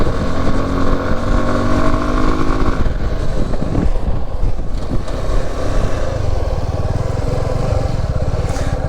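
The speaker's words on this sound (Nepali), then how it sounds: "पावरफुल छ यार यो बाइक" A 250 cc motorcycle fitted with a windshield roars close and loud as it is ridden, the engine note shifting after a few seconds while wind rushes over it without letup.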